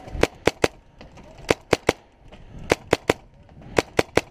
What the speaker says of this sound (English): Right where I'm shooting.